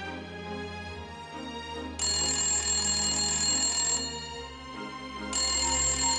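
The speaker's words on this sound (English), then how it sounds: "That's the phone." An electronic phone ringtone repeats in bright, insistent bursts, loud and close, with a steady musical tone underneath.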